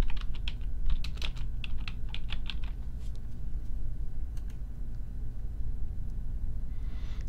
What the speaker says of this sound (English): Click authors, search for Margaret Atwood.